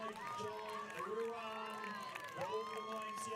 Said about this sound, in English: The crowd comes alive to cheer him home.